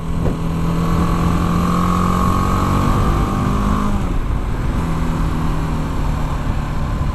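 A BMW G310 GS motorcycle engine pulls hard with a steady, rising drone and a rushing wind-and-road roar, loud and continuous without any talk.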